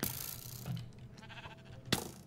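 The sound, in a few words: sheep bleating in video game Minecraft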